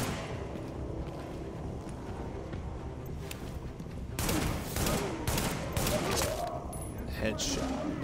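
Gunfire in the video game Tom Clancy's The Division, bursts of rapid shots that grow louder and denser in the second half, mixed with game noise.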